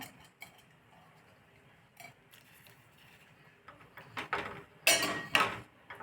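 A spoon scrapes and clinks against a pot while rice milk payasam is stirred, with irregular metallic taps that grow louder and more frequent toward the end, close and fairly quiet.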